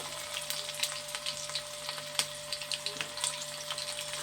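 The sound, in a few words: garlic frying in hot oil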